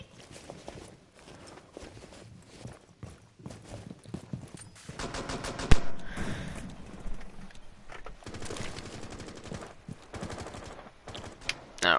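Rapid bursts of LMG machine-gun fire in a tactical shooter tournament match, rattling in clusters amid footsteps and other clatter, growing louder and denser toward the middle.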